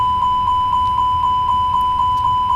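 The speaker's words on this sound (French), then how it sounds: "On va aussi tester les détecteurs de fumée dans le cargo." Cargo smoke detector test alarm in the Fenix A320 flight simulator cockpit, a steady tone with rapid, evenly spaced chimes repeating about four times a second over a constant cockpit hum.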